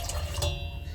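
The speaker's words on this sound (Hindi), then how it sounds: "तो मैं इसमें पानी थोड़ा सा डाल देती हूँ," Water poured into full cream milk in a pot for rice kheer, a steady close liquid splash and trickle for about a second, the flow fairly even throughout.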